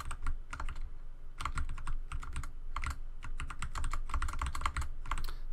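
Computer keyboard typing while playing Dwarf Fortress: quick clusters of clattering key presses in irregular bursts, close and clear, with no talking.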